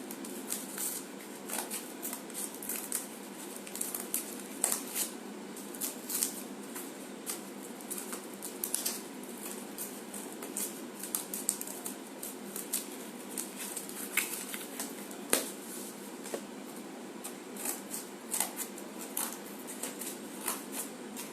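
Scissors snipping through paper to cut shapes for a handmade photo frame, a steady run of quick crisp cuts with light rustling, fairly close and quiet.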